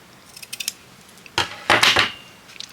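Scissors cutting off a piece of craft material, a few light clicks followed by two louder, close crisp snips, then a last short snip.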